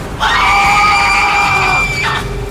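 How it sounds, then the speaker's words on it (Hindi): Two people scream together in a dramatized horror story, one long, loud, sustained shriek that holds steady for about two seconds, then a brief second cry as it breaks off. "दोनों की ही चीखें एक साथ निकली"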